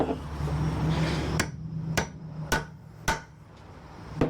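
Four sharp metal hammer strikes on a bolt ring out at an even pace while building a sawbuck, following a stretch of rumbling vehicle noise that cuts off just before the first blow.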